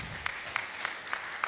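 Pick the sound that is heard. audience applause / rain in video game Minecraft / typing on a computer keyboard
audience applause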